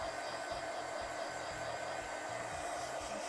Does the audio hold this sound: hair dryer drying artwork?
yes